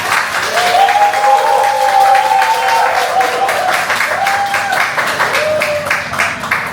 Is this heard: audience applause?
yes